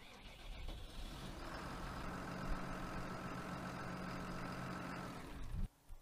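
An International 1455/1255 XL tractor in Farming Simulator 2019 starts and then idles with a steady, loud diesel drone and a steady hum, ending abruptly with a short cutoff near the finish.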